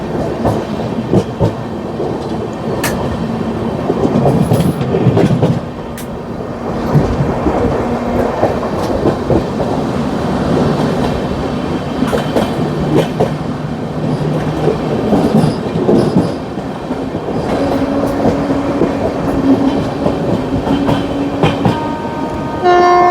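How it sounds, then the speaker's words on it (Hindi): A train rumbles past close by on the opposite track during a journey from Tatanagar to Delhi, a loud continuous roar of rolling wagons with wheel clatter and a horn blast, no talking. "और सामने से कोई ट्रेन भी आ रही है,"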